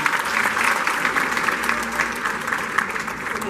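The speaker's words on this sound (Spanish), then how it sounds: "¡Aplauso fuerte!" A theatre crowd at a bolero concert claps loudly and steadily throughout, a continuous wash of applause with a few faint voices buried underneath.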